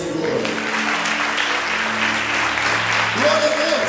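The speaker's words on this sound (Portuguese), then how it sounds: "aplauda ao Senhor." A church congregation claps together in steady applause at a worship service, with a sustained musical tone and organ-like chords underneath and some voices mixed in.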